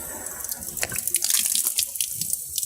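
Water runs from a tap for ritual ablution before washing the face, a steady splashing stream with drips and small splashes throughout, close and moderately loud with no talking.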